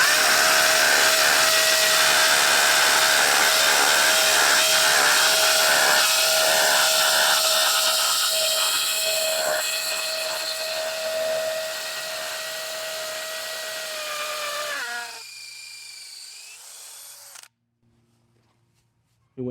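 A Dewalt DCD1007 hammer drill bores through the ridge of a cinder block, a loud continuous high-pitched whine and grinding that runs steadily for about fifteen seconds, then winds down and stops, leaving near silence.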